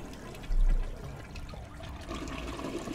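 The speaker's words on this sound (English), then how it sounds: "Certainly enough, the toilet worked." A toilet flushes in a video game with a sudden loud surge of water. The rush then settles into a lower running and trickling wash that continues to the end.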